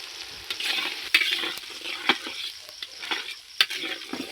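Ginger and cumin paste frying in a brass wok with dried chilli and black pepper for a mutton curry, a steady close sizzle broken by sharp scraping stirs that recur every second or so.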